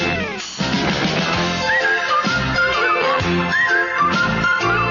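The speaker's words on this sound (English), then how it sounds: "This was the theme to Garry Shandling Show." Opening theme music of It's Garry Shandling's Show, a full loud band arrangement with a bright whistled melody running over the accompaniment throughout.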